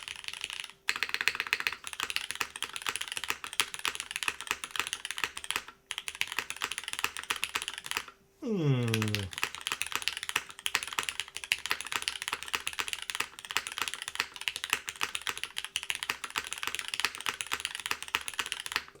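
Typing on a Cloudline v2 custom mechanical keyboard with a combo top, O-ring mount and aluminum internals, a dense, steady stream of close keystrokes with a few brief pauses and one short clunk midway.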